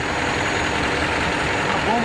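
Diesel engine of an industrial fire truck's foam proportioning unit running to drive its hydraulic pump, a steady low rumbling drone close by, with a person talking over it.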